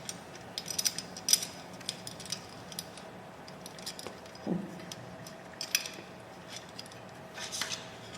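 Wheel nuts being tightened by hand on a fixed-gear bike give faint, scattered metallic clicks and small ratchet-like rattles, close by in a quiet room.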